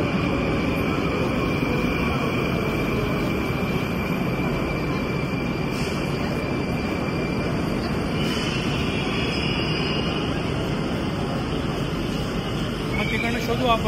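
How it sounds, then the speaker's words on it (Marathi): A Moscow metro train pulls into the station with a loud, steady rumbling roar that fills the whole stretch, while faint voices and station noise sit underneath. "ट्रेन आलेली आहे."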